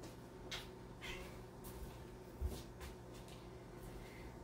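A kitten meows several times in a room where hot wax is being used for candle making, short faint calls spaced out over a low background hum.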